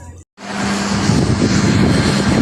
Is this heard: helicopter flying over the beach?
yes